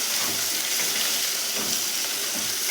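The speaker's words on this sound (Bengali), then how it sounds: "পেঁয়াজটাকে ভালো করে ভাজবো" Chopped onion fries with whole garam masala in hot oil, a steady, dense sizzle with faint crackles running unbroken throughout.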